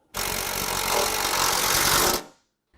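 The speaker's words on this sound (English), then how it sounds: "now we're going to use the self-tapping hardware to attach to the front right here to this" A power drill drives a self-tapping screw into a Jeep radiator core support while fitting aluminum inner fender liners, a loud steady whirring burst of about two seconds that stops abruptly.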